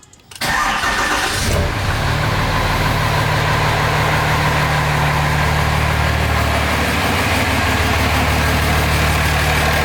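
A Cummins diesel engine swapped into a Ford F-350 cranks briefly, catches, and settles into a loud, steady close-up idle with a deep clattering rumble that holds for the rest of the clip.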